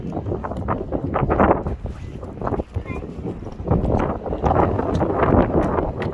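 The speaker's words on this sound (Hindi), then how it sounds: "बड़ी ठंडी हवा चलती पई है" Cold wind rushes and buffets a microphone outdoors, a steady blustery roar underneath people talking.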